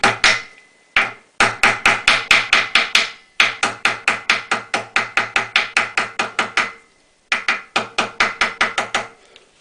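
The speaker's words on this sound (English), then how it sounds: "I do like to dress them corners in with a ball peen hammer." A ball peen hammer dresses in the corners of a metal airbox, striking in quick, even runs of sharp taps separated by brief pauses, close and loud with no talk.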